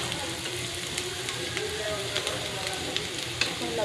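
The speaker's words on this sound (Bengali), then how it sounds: "মরিচ পেঁয়াজ দিয়ে তেল দিয়ে লবণ দিয়ে যে ভাজা ভাজা করে ফেললাম।" Sliced bitter gourd fries with chili, onion, salt and oil in a pan, giving a steady close sizzle with faint stirring clicks and no one speaking.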